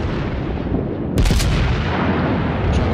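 Secondary battery guns of the warship Amagi in World of Warships fire a loud burst of shots against a steady rumble of ship and sea noise, then keep up a low continuous roar.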